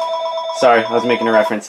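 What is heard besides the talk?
phone ringing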